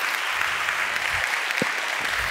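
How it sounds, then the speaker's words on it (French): An audience at a French business conference on brand creativity applauds steadily, a dense, even wash of clapping that holds throughout at moderate loudness. "On peut vous applaudir"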